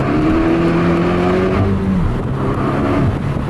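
Ford Focus ST with a stage 2 rear motor mount accelerating hard in second gear, engine note rising loud and close from inside the car, then settling as it shifts.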